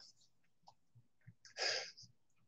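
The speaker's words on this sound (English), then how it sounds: "I got to sneeze." A single sharp sneeze erupts near the mouthpiece after a few quiet breaths and small mouth sounds, loud and close against an otherwise quiet room.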